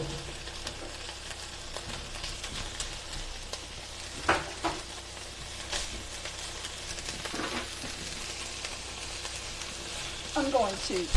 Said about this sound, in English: And I just want a good sear on this ham.